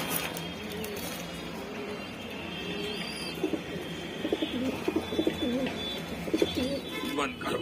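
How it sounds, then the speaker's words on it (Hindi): Saharanpuri Allahabadi Kamgar pigeons give soft repeated coos close by, the calls growing more frequent in the second half over a steady background hum. "ये भाई देखे दूसरा कमग्गर कबूतर"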